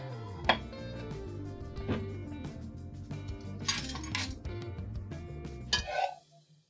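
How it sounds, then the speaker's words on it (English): A slotted spoon scrapes and clinks against a pan while lifting browned beef out, giving several sharp metallic taps and scrapes over a low background hum before it drops off at the end. "I'm going to use a slotted spoon and pull this beef off of"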